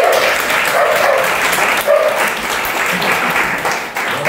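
Audience applause at a Polish spiritual gathering, a continuous clatter of clapping that carries for several seconds with some crowd noise mixed in.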